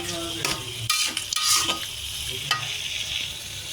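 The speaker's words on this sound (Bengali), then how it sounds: "ভাজা ভাজা করে তারপরে মশলা দেব।" Chicken and onions frying in a pan give a steady sizzle, broken by a few sharp spatula scrapes and utensil clinks early on, then a continuous crackle near the pan.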